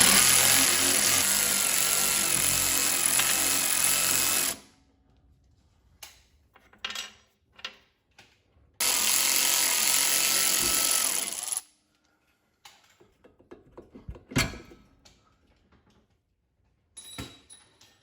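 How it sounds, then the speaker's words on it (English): A power tool removes the lower shock bolt on a Mustang's rear suspension: two loud sustained bursts of whirring rattle, each several seconds long, separated by quieter clinks and handling knocks of metal parts, close by. "now let's go ahead and remove the bolt for the lower shock"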